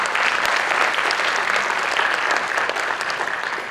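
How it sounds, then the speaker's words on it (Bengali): A theatre audience at Rabindra Bhavan breaks into loud, sustained applause after a stage play, a dense wash of clapping with no voices standing out. "ওদের জন্য জোরে একটা হাততালি।"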